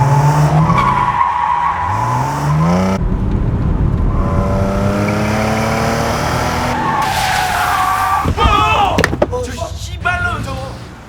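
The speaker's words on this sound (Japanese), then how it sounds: "アクセル踏み込んで突っ込む。" A car is driven hard and skids, with loud engine roar and tire noise running steadily throughout, rising harmonic sweeps as it accelerates, and a sharper burst of screeching near the end.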